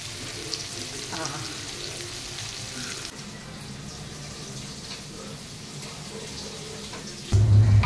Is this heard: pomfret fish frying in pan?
yes